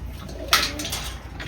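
Pigeons in a loft, brought from a friend, give a soft coo near the middle that rises over a low steady hum, with a few fainter calls after it.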